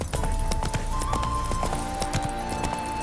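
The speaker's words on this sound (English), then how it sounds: "Spooking my horse." A horse's hooves clop in a quick, steady rhythm across a loud game soundscape in The Witcher 3: Hearts of Stone, with a tonal hum running underneath.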